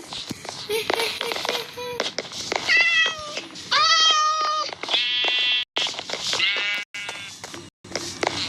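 Repeated cat meows from Minecraft, several loud high bleating cries in quick succession with short gaps between them, clear and close.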